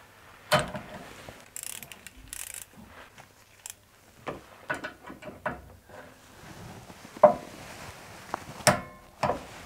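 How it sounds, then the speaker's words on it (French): A torque wrench fitted with an adapter and extension tightens a rigid brake line fitting on a car, making scattered metallic clicks, ratchet ticks and tool clatter at close range in a quiet workshop, no speech. "j'utilise un adaptateur comme ça sur ma clé dynamométrique. Si j'arrive à le passer, je serre."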